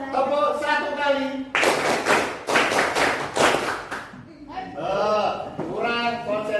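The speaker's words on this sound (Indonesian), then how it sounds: "Tepuk 1 kali." Students in a school classroom clap on a teacher's cue, several loud bursts of clapping bunched together between stretches of someone talking.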